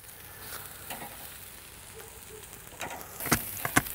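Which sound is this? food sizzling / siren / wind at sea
food sizzling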